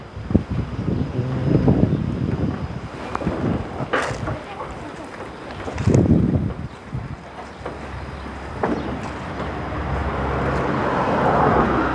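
Wind blows steadily outdoors at a house roof under construction, a broad rushing noise with gusts swelling and fading over the full length, with some voices and handling noises mixed in.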